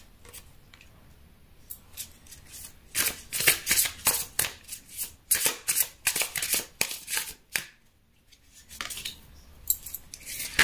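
Tarot cards are shuffled by hand close by: a quiet start, then repeated quick bursts of crisp riffling and sliding card sounds, pausing briefly before a few more shuffles.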